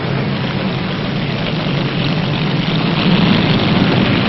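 Propeller aircraft drone steadily overhead while circling a captured German submarine at sea in 1945, a continuous loud engine roar from old wartime film audio with no voices.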